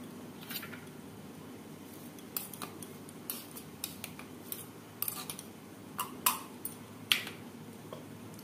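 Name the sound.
dry-roasting black mustard seeds, stirring in pan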